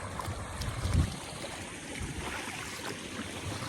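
Water flowing along a flooded footpath near a hillside shrine at Hastgiri, Palitana, rushing steadily in a broad, close wash with a brief louder surge near the start and no talk.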